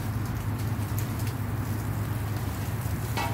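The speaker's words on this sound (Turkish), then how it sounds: "yağmurlama sistemi" Steady, hissing spray of water from a garden sprinkler pattering on leaves and ground, continuous and fairly close, with no voices.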